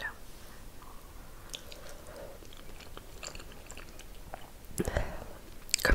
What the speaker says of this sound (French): je mange des nouilles piquantes